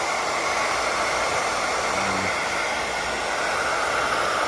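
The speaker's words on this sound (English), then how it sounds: "we're going to use the hair dryer real quick and get these bubbles out" A hair dryer runs steadily at close range, a constant broadband whoosh with no pauses, warming chrome-delete vinyl wrap on the window trim of a 2018-2021 Honda Accord to work out bubbles.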